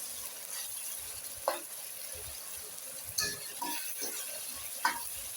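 Onion, tomatoes and ginger-garlic paste fry in a pan with a low steady sizzle, broken by a few sharp stirring scrapes.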